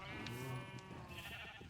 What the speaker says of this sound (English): Over here are my cows and sheep